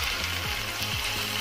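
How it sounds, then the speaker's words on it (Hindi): Garlic-ginger paste fries in a pan with browned onions and ginger for a chickpea dish, making a soft continuous hiss beneath steady, low background music. "अब हम इस पर लहसुन अदरक का पेस्ट डाल देंगे।"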